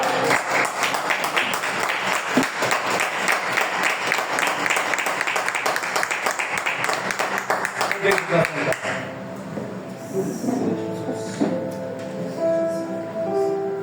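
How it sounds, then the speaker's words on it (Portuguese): A church congregation applauds the Word of the Lord during a Portuguese-language service, with dense, sustained clapping for about nine seconds before it thins out into scattered sounds and voices. "Aplaudam a palavra do Senhor"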